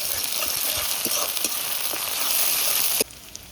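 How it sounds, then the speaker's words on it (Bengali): Ginger, garlic and chopped chili fry in a pan for a village Bengali fish dish, a dense, loud crackling sizzle with stirring scrapes that cuts off abruptly near the end. "এবার ভালো করে ভেজে নিতে হবে।"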